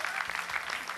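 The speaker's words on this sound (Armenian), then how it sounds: "եւս մեկ անգամ ծափարենք հիանալի կատարման համար" An audience applauds a performance, a brief burst of dense, close clapping that stays even from start to finish.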